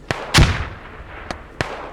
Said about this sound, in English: Stand up so I can use the grenades.